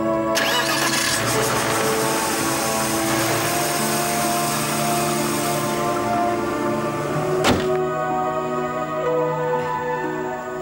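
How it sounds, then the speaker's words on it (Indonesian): A car engine is started after a quick roadside repair: a continuous loud engine drone with a steady hum runs throughout, broken by one sharp click or knock partway through, with no voices. "Boleh di starter Pak dihidupkan."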